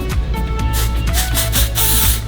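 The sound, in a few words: texture spray being sprayed on hair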